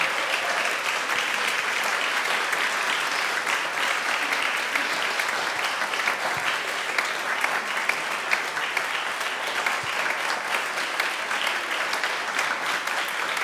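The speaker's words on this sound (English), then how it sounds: "Can we clap for our teachers?" A Unitarian Universalist congregation at a Sunday service applauds its volunteer teachers: sustained, even clapping from a large crowd fills the room for over ten seconds, with only a faint trace of voices.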